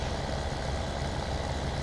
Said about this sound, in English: come on tractor, get up this hill